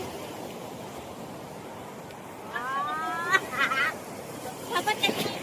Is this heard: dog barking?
no